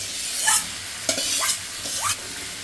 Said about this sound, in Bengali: মাশরুমটা দিয়ে দিয়েছি এখন আমি ভালোভাবে নেড়ে চেড়ে কষিয়ে নেব